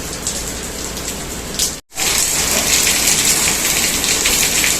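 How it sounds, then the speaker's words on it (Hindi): Steady morning rain pours down onto a rooftop in a loud, continuous hiss, briefly cut off by a short gap before resuming just as dense. "और देखो, आज सुबह सुबह बारिश हो गई है।"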